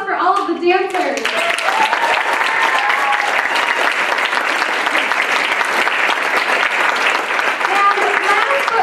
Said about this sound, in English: And one more round of applause for all of the dancers.